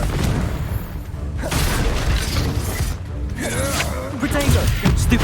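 A Confringo fire spell blasts in Hogwarts Legacy, a loud booming, crackling burst amid clattering game effects, with in-game speech mixed in.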